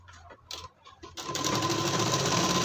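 A sewing machine stitches a blouse seam, a few short hesitant starts and then a steady fast whirring run, close and clear.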